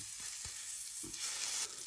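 Steak laid in a hot pan gives off a soft, steady sizzle, with a few low thuds and clinks of handling over the hiss.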